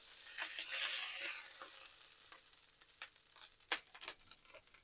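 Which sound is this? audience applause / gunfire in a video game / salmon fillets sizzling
salmon fillets sizzling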